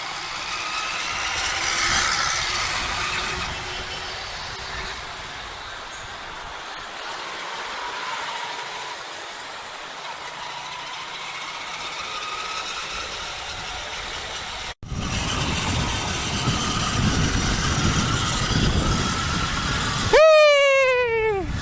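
Road traffic on a street with idling engines, a steady low drone and rumble of vehicles nearby, with a brief break and a rising whine near the end.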